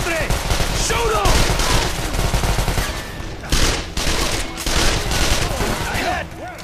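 Rapid gunfire bursts from the video game Call of Juarez The Cartel crackle loudly and nearly nonstop, with shouting voices and game effects mixed over the shooting.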